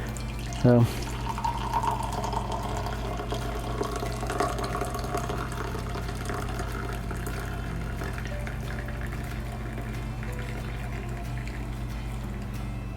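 Coffee poured into a small cup on board a boat, a soft steady liquid trickle running under a voice, with a brief clunk near the start and faint hum in the background.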